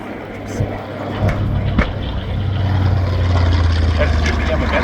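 TBM Avenger warbird flying past at the EAA AirVenture airshow amid pyrotechnics, a loud propeller engine drone that swells steadily as it approaches, with crowd and commentary noise under it.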